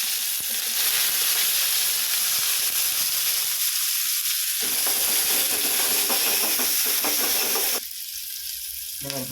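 Onions sizzle loudly in hot oil with mustard seeds and lentils for a brinjal and drumstick kara kuzhambu, a steady, close, continuous frying hiss with no talking.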